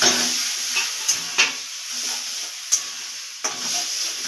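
Mashed eggplant for begun bharta is stirred slowly in a pan over medium heat, giving a steady soft sizzle with a few sharp scrapes and clicks of the spatula at irregular intervals, close and without talk.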